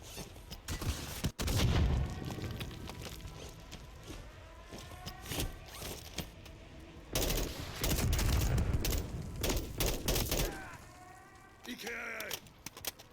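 Dense, continuous Call of Duty Modern Warfare III gunfire with repeated loud bursts and booming blasts, interleaved with radio-style voices and chatter throughout.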